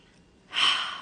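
A single deep inhalation, a soft breathy rush that begins about halfway through and swells close and clear before slowly tapering off, alone in a quiet room.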